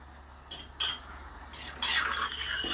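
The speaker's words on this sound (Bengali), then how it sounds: "দেখুন চিনিটা দিয়ে একটু নেড়ে চেড়ে দিলাম" Sugar being stirred into a thin rohu fish curry in a pot, heard as a few close metallic spoon scrapes and knocks against the pot over a soft bubbling hiss, with no voices.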